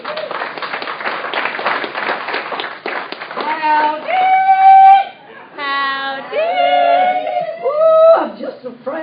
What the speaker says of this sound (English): Please help a big round of applause for Jane Morrison.